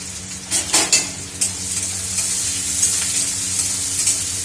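Onion with green chillies frying in a pan: a loud, close sizzle with a few clattering stirs and utensil knocks early on, settling into a steady hiss, no voices.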